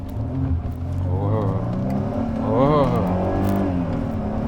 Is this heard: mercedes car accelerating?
yes